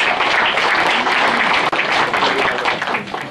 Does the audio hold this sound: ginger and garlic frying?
no